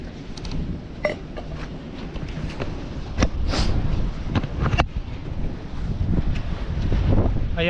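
Strong wind buffets the microphone with a low, gusty roar, punctuated by thumps and knocks from nearby movement.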